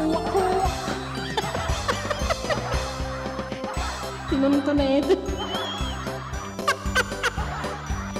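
A voice imitates duck quacks, honking in short bursts over a lively background of singing voices and music, with talk and repeated rhythmic quacking sounds throughout.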